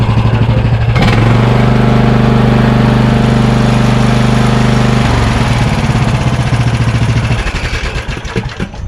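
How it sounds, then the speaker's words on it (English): A small Briggs V-twin engine runs loud and close with a rough, steady, choky idle, briefly revving near the start and sputtering unevenly toward the end. "Let's see the engine. Oh, V-twin."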